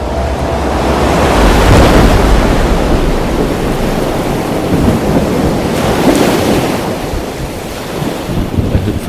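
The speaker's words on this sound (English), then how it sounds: "The rhythmic crashing of waves against the hull lulls me into a blissful trance-like state." Constant heavy roar of sea waves surging and crashing against a boat hull, with buffeting wind noise, loud and close with no pauses.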